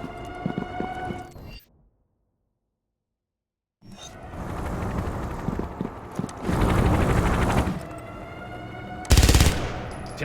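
Bursts of rapid gunfire from Avatar The Game, set on Pandora, loud and dense with a sustained fusillade and a sharp heavy volley near the end, broken by a stretch of silence early on.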